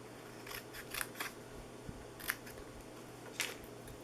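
Small paper piece cut out by hand with scissors for a Halloween treat holder, faint close snips in small clusters with brief pauses, over a quiet room hum.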